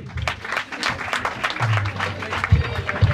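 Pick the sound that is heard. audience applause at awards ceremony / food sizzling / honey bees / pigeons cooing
audience applause at awards ceremony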